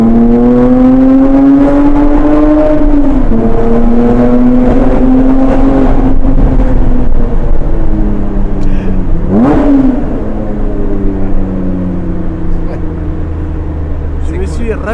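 The engine of a 450 hp Lotus Evora S revs and climbs through the gears, loud and close inside the cabin, with a brief lift and rising pulls, while people talk over it.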